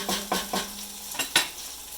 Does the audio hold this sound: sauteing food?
yes